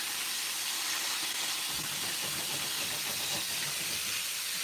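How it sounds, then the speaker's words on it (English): Chicken wings deep frying in hot oil at home, a steady, fairly quiet bubbling sizzle and hiss that holds constant throughout. "Make sure they kind of separate a little, so they'll fry up good."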